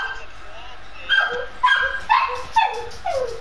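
A dog barks repeatedly in sharp, yappy bursts roughly every half second, moderately close, with a person's voice in the background.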